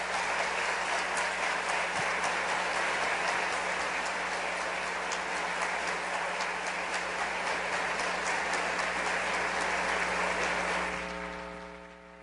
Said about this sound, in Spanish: Con un fuerte aplauso recibimos al señor Carlos Kazuga Osaka.